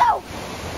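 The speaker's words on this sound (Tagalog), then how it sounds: "ngayon natin ang mga lagaslas ng tubig." Rushing water of Rainbow Falls near Whistler, Canada, a steady broadband roar heard close by, with a brief vocal sound at the very start before the even wash of the falls continues.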